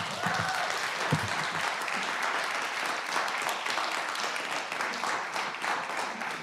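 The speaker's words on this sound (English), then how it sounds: "we need to address the applause and the booing" Sustained applause from the public gallery at a Bella Vista city council meeting, a steady dense clatter of many hands at moderate distance, with a few brief voices near the start.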